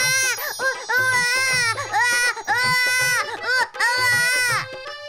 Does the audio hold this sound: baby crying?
yes